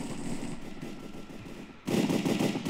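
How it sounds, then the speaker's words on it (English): AK rifle fire in the Minecraft Hypixel Cops and Crims game: rapid bursts of automatic gunfire, a sustained rattling stream that briefly dips then returns louder, with no talking over it. "I'm gonna actually wanna use my AK."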